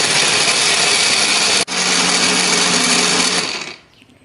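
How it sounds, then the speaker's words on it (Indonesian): A kitchen blender whirs loudly and steadily as it grinds a chopped chili and spice paste with a little water or oil, briefly stuttering midway, then winding down and stopping. "Setelah ini kita siapkan blender."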